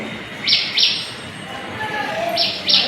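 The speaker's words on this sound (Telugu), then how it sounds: "ఆ గూళ్ళలోకి పక్షులు అయితే వస్తున్నాయండి" Bright, sharp chirps of sparrows at terrace nest boxes come in two quick pairs, near and fairly loud, over a quiet background hiss.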